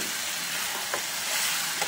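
Potatoes fry with ground manimuni (pennywort) juice just added, giving a steady soft sizzle with a few faint stirring scrapes and no talk.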